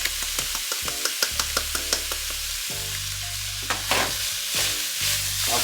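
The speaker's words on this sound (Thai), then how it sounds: "ผัดไปเลยคั่ว" Beef stir-fried with holy basil in a hot pan, a loud continuous sizzle punctuated by quick rhythmic spatula clacks against the pan, with a musical tone running underneath.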